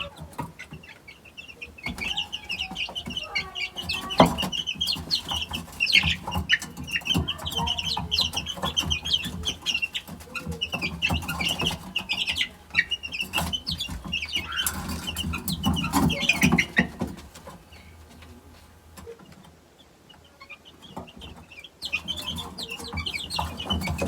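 Light Brahma chicks chirp and cluck steadily at close range, a busy run of high, overlapping peeps lasting the whole stretch with no talking.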